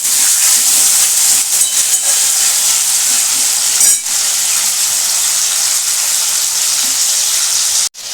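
Capsicum frying in a hot pan for a dhaba-style paneer mushroom masala gives a loud, continuous hissing sizzle. It dips briefly midway, then carries on steadily until a sudden cutoff at the end.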